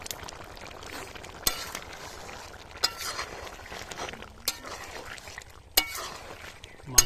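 Chicken curry with coriander leaves is stirred in a pan, with a soft continuous scraping bed broken by a few sharp metallic knocks of the spoon against the vessel at irregular intervals.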